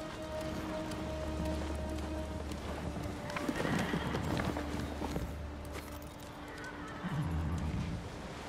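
A horse in the Ghost of Tsushima video game whinnies loudly and snorts while hooves clop on the ground, with rain falling steadily in the background and a second shorter neigh near the end.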